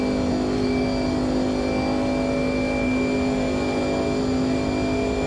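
Race car engine held at full throttle at Monza in Automobilista 2, a loud, steady, unbroken high-pitched drone with no lift or gear change throughout.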